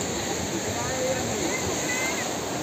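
Water flows with a steady, broad rushing wash, continuous and moderately loud throughout, with faint voices and background activity mixed in.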